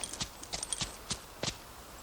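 Hooves of a horse in a video game clip-clop in a few sharp, evenly spaced strikes over a faint steady background, close and fairly clear.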